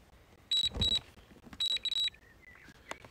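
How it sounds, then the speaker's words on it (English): A camera drone returning to home emits pairs of sharp, high electronic beeps in short bursts, followed by fainter tones, heard outdoors on Dartmoor with little else around. "I don't know why it's beeping at me."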